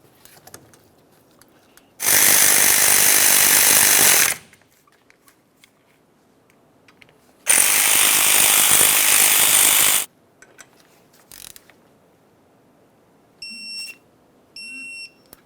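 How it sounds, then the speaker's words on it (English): Slider bolts on a 1994-2002 Dodge Ram 2500 front brake caliper are run up with a power tool in two loud sustained bursts of about two seconds each, separated by quiet, followed by a few short high beeps. "Snug them up, and then you'd want to torque these to 24 foot-pounds."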